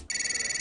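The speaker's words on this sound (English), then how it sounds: "hearing your phone ring or feeling it vibrate when it's doing no such thing" A phone rings in a short, bright electronic trill with a rapid warbling pulse, close and clear, heard on its own.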